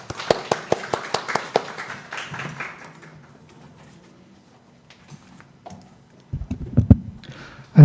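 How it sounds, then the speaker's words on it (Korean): Several sharp hand claps from a conference audience at an internet governance forum welcome the next speaker, then fade into near silence, followed by shuffling and handling noise. "박수로 받아주시면 감사하겠습니다."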